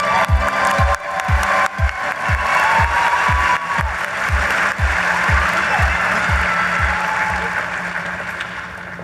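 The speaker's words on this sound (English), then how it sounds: "Another round of applause for those amazing chapters." Conference audience applauding at a national SHPE meeting, a sustained wash of clapping and some cheers across a large hall, with a thumping beat of music running underneath.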